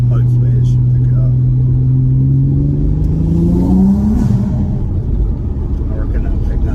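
B5 Audi RS4 Avant engine accelerating through a tunnel, a loud steady rumble with the engine note rising in pitch as it pulls, heard from inside the cabin.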